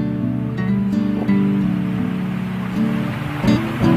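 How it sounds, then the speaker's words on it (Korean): Steady rushing water from a small mountain stream in a forest in Hoengseong, South Korea, flows continuously, close and fairly loud, with a low hum beneath it and no voices. "시원한 물소리 들리시나요?"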